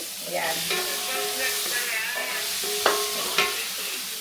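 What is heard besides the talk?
garlic and onion sautéing in a pan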